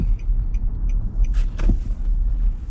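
A 2011 Infiniti QX56 with a 5.6-liter V8 idling or cruising at low speed, a deep, steady low rumble heard from inside the cabin, with a few faint clicks and a brief whoosh.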